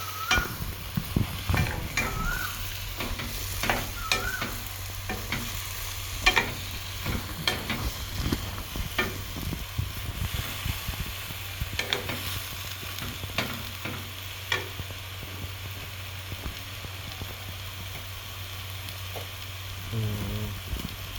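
Zucchini and eryngii mushrooms stir-fried in a pan, a steady close sizzle under repeated scraping and clattering stirs with a utensil, continuing without pause and without talk.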